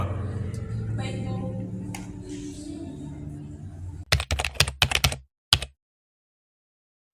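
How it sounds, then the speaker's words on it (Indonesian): Quick bursts of keyboard typing on the proclamation text, a run of sharp clustered keystrokes followed by one last isolated tap, coming after a stretch of low hum and murmuring voices, then silence. "Tolong ketik naskah ini dengan cepat."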